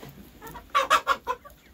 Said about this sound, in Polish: Kogut.